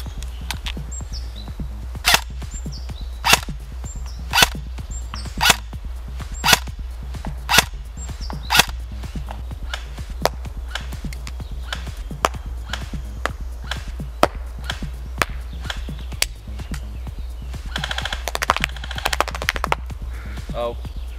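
A WE M4 AEG airsoft rifle fires a long series of sharp, snappy single shots at a steady pace, close and loud, then a brief busier burst near the end; voices talk faintly between shots.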